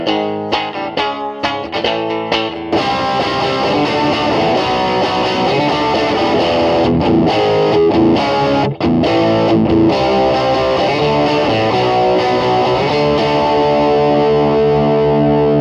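Electric guitar played through a Marshall JH-1 Jackhammer overdrive distortion pedal, treble rolled back and volume pushed, loud and saturated, with a few choppy opening stabs giving way to sustained heavy chords and riffing throughout.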